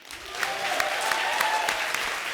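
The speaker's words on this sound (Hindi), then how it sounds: "रज्जो के लिए जोरदार तालियां," A studio audience bursts into applause at a comedy show, a dense, steady wash of clapping that swells in quickly and holds loud for a couple of seconds.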